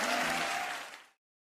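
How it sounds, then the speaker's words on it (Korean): Applause from a children's worship congregation in a church, a dense burst of clapping that fills the space, then fades and cuts off after about a second. "큰 박수로 저희 교회가 돌리겠습니다"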